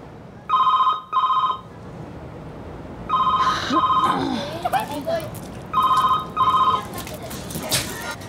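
A telephone rings in three separated double-burst rings, loud and close, with a voice and indoor chatter filling the gaps between rings.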